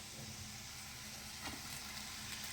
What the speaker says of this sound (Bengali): চাউমিন করব বলে এখানে আলু গাজর ক্যাপসিকাম ভাজতে বসিয়েছি